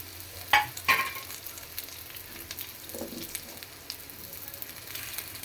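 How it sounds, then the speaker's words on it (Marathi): Cut okra being stirred into softened onion in a pan, giving a low frying hiss with a couple of sharp scraping clatters near the start and soft stirring after. "कांदा शिजला की आपल्याला त्याच्यामध्ये कट केलेली भेंडी टाकायची आहे"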